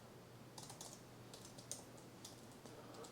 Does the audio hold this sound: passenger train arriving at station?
no